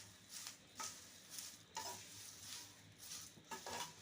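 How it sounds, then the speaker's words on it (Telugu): Curry leaves fry quietly in a pan for karepak podi, a soft sizzle broken by rhythmic scraping strokes of a spatula stirring them every half second or so. "ఈ విధంగా కరివేపాకు నీట్గా ఫ్రై చేసుకోవాలి."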